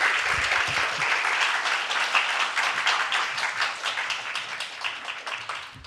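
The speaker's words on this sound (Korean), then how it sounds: "우리 나고야에서 오신 우리 김철희 목사님 나오실 때 박수로 맞으시면 감사하겠습니다" A church congregation at a Korean-language Sunday worship service claps to welcome a visiting pastor from Nagoya, giving loud, dense, sustained applause that carries on evenly, with no speech over it.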